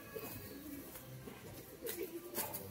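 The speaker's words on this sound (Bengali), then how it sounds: "এটা হচ্ছে নর পায়রা" Domestic pigeons, including a male bird, coo softly in low repeated murmurs, close by and steady, with faint rustling and no talk.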